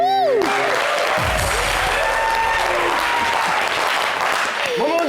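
Studio audience applause on a TV variety show, loud continuous clapping with whooping musical swoops and sound effects over it, plus brief voices.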